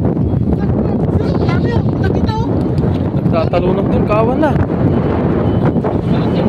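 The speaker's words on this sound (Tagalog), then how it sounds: "Pasensya na po at medyo mahangin." Strong wind buffets the microphone outdoors by the sea, a constant roaring rumble throughout, with people talking over it.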